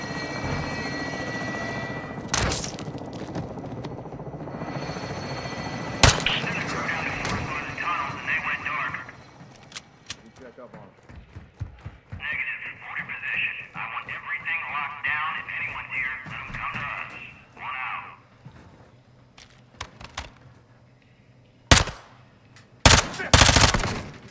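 Gunfire in Call of Duty Modern Warfare 2, sharp shots and short bursts among a helicopter's drone, with radio-style voices talking in between, some shots loud and close near the end.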